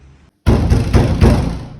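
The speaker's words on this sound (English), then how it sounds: "you begin to stand outside and to knock at the door" Knocking on a door, a few heavy, close raps in an even rhythm that start abruptly after a brief silence and ring out loudly with no voices.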